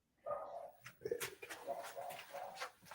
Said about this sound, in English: What's my dog barking at?